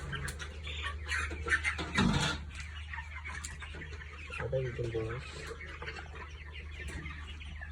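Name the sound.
28-day-old broiler chickens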